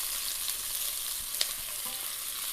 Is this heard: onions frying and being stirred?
yes